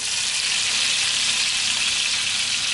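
Steak sizzling steadily in a pan of nut-brown butter while being basted, a dense, continuous close hiss with no pauses and no voices.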